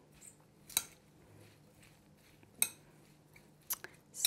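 Pico de gallo is mixed in a bowl with a utensil, giving a few sharp, sparse clinks and wet squishing stirs that sound quiet and close.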